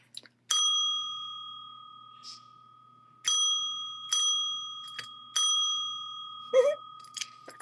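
A small bell with a clear ringing tone is struck several times at uneven intervals, each ding close and sharp, then ringing out and fading before the next. Brief faint voices come in near the end.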